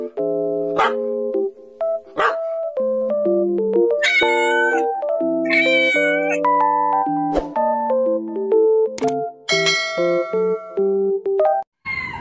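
A rescued adult cat meows loudly and repeatedly outside a house, its cries drawn out and tonal, coming in a near-continuous string of calls with brief gaps, close to the listener.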